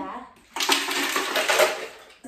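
Home-made Starbucks Ruby Flamingo Frappuccino mixture poured into a blender, a close liquid splashing and gurgling pour that starts abruptly, runs steadily for over a second, then tapers off.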